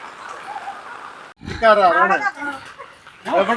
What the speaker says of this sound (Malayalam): നല്ല ഗംഭീരം മഴ സെറ്റായിട്ട് കേട്ടോ